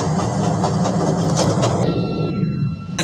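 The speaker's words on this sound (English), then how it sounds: "This is a green line train to Harlem and Lake." A CTA 5000 series Green Line train runs in Roblox, with a loud, steady rolling rumble and rail clatter that thins out and quiets near the end.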